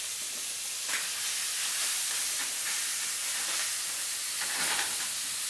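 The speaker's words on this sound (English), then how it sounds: "We'll just let that sear another few minutes" Meat searing in a hot pan ahead of roasting, a steady, bright, hissing sizzle that holds evenly throughout with faint crackles, close and alone.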